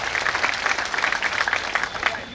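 Audience applause at a Dr. Ambedkar Jayanti celebration event in Hinganghat, a steady dense clapping from a crowd lasting a couple of seconds, fairly close and even in loudness.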